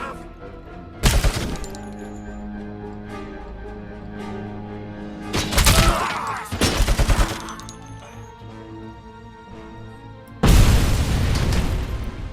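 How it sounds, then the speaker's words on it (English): Heavy machine gun fire in the video game Robocop: Rogue City comes in several loud bursts separated by pauses, punchy and booming over a steady game soundscape. "Another heavy machine gun over there."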